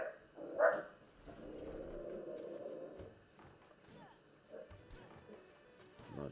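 A dog barks once near the start, followed by a drawn-out whine or growl and a few softer scattered sounds, heard indoors at moderate distance with background noise.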